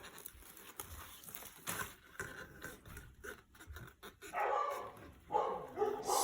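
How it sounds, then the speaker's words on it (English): Dogs bark faintly in the distance, scattered yips and barks coming in short bursts over a quiet, hissy background. "sorry for the barking dogs."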